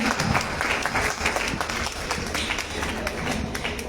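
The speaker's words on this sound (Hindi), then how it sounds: "बस तो मेरे लिए तालियां बजा दो भाई" An audience at a tribal society gathering claps, a sustained burst of applause with dense, overlapping hand claps that stay steady and fairly loud from start to finish.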